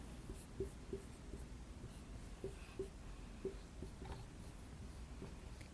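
Pen writing on paper while filling in the boxes of a Punnett square: soft, continuous scratching strokes with small ticks at regular intervals, close and quiet with no voices.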